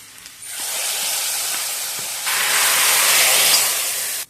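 Chopped onion and chili tempering in hot oil sizzling loudly as it is poured into a pot of dal curry with drumstick, a steady broad hiss that swells partway through and cuts off at the end, with no talking.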